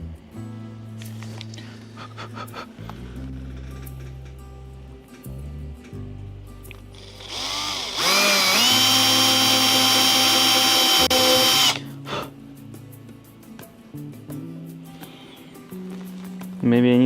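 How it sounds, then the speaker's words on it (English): A power drill with a very thin bit boring into a scale warship model, whining in a sustained loud burst midway, with handling noises and pauses before and after. "I hope I don't break this little drill bit"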